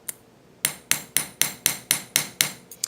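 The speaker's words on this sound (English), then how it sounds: "This is a steel hammer" A steel hammer strikes wire to rivet it, giving eight sharp metallic taps at an even, quick rhythm, close and clear with a short ring after each blow.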